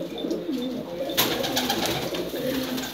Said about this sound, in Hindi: बहुत ही ज़बरदस्त टैडी कबूतर